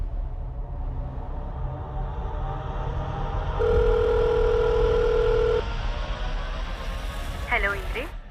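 A telephone call is redialed over a low background hum: a steady electronic tone holds for about two seconds, then short chirping beeps follow near the end.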